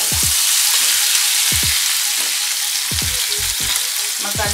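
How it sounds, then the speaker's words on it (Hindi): Bay leaf and a spice masala hit hot oil with a dense, continuous sizzle and crackle, while a spoon scrapes and stirs the pan in several low knocks, close up. "अभी हम इसमें डालते हैं तेजपान और हमारा ये मसाला।"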